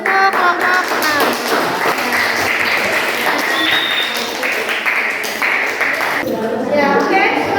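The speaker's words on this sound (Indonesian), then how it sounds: "Silakan kasih tepuk tangan untuk kelompok 6" A classroom of students claps for group 6 during an Indonesian science lesson on microscopes, a loud, steady patter of many hands lasting several seconds, with voices mixed in.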